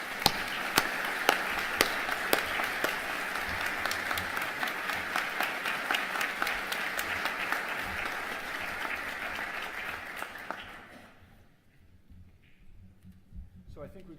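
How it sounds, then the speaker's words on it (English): Sustained audience applause at Dr. Reed Mosher's retirement celebration, a dense roomful of clapping with a few sharp individual claps, running about ten seconds before fading out into quiet room sound and a little murmur. "Just a round of applause for the Reed Mosher legacy"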